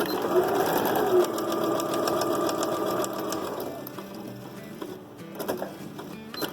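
Sewing machine stitching a fabric corner on a phone-holder wallet, a loud close whir for about four seconds, then stopping, with a few faint clicks and handling sounds afterward.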